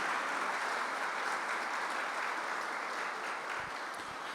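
Church congregation applauding a welcomed guest, a dense, even wash of clapping lasting several seconds, moderately distant and fairly quiet, with no talk over it.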